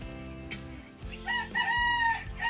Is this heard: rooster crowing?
yes